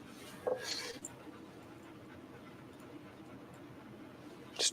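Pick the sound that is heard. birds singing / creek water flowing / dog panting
dog panting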